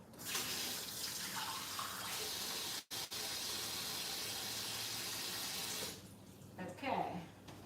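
A kitchen tap pours water into a container for fresh dill and mint, giving a steady close gush for about six seconds before it stops, with a voice speaking quietly underneath.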